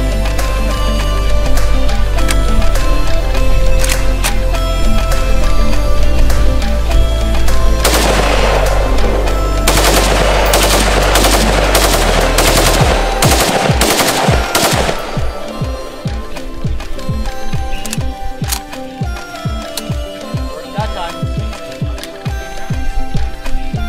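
Full auto AK rifle fire, loud and close, with sustained bursts and then a fast run of separate sharp shots.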